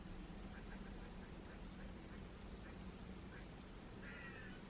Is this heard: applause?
no